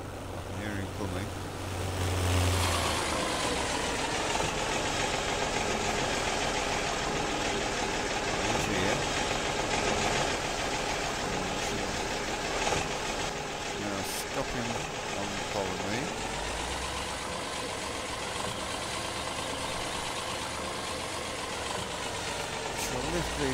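A Ford 7710 tractor comes closer with a continuous, rumbling diesel engine drone that stays loud and steady for over twenty seconds. The tone shifts slightly partway through.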